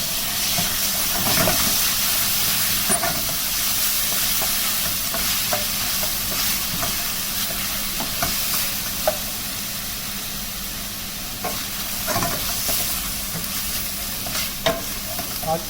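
Tomatoes added to garlic and ginger fry in a pan, a steady loud sizzle and hiss with repeated scraping stirs throughout, close by and with no talking.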